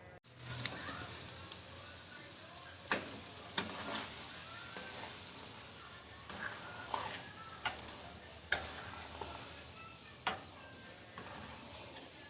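Sugar melting with amla (Indian gooseberry) in a pan on a gas stove for murabba, a steady close sizzle broken by several sharp ticks and clinks of a stirring utensil against the pan, no speech.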